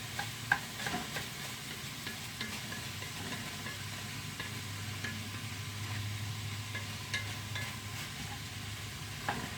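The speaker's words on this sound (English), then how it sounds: "Break up my sausage a little more." Sausage being broken up and stirred in a frying pan for homestead bean soup, a steady close sizzle with scraping utensil strokes throughout and no talking.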